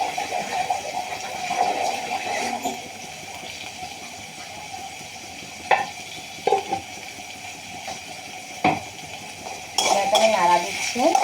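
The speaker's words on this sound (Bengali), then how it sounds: "এখানে নাড়া দিচ্ছি" Cooked, finely chopped meat is stirred in a pan, with soft scraping and occasional sharp clinks of a utensil against the metal and a faint sizzle underneath.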